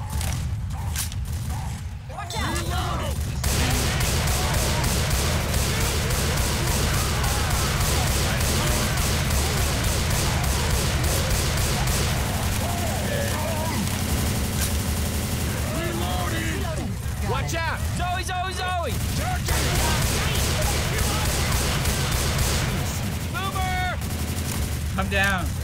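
Rapid automatic gunfire rattles almost nonstop in a Left 4 Dead 2 co-op survival fight, loud and close, with brief pauses and mechanical clanks while voices shout over it.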